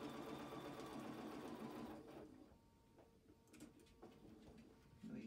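A sewing machine overstitches through a denim and flannel quilt, a steady loud whirring run that cuts out after about two seconds, leaving faint handling clicks and quiet room sound.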